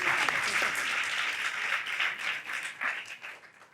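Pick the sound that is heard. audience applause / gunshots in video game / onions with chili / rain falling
audience applause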